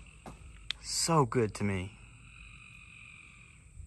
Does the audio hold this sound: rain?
no